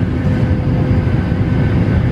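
Steady, loud engine drone fills an airplane cabin, a constant low rumble and whoosh with no breaks or talk.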